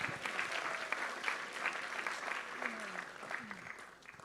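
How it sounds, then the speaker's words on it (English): Sustained audience applause fills a large hall at a hackathon closing ceremony, a steady dense patter of many hands at moderate distance, with faint voices underneath. "Round of applause."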